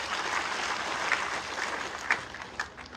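A crowd at a political rally in Khetri, Jhunjhunu, applauds the people seated on stage, a steady wash of clapping with a few louder claps popping out before it tapers slightly at the end.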